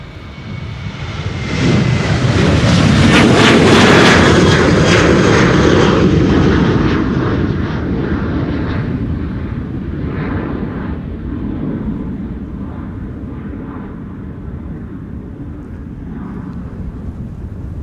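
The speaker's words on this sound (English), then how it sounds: "Transavia flight 5621 to Palma de Mallorca here in the foreground." A Transavia jet airliner takes off from the Polderbaan runway at Amsterdam Schiphol, its loud engine roar peaking early and then slowly fading into a long, rumbling drone as the aircraft climbs away.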